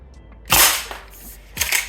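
A Golden Eagle M1887 gas-powered airsoft shotgun fires through a chronograph, giving one sharp, loud report followed by a second shot about a second later, with no talking.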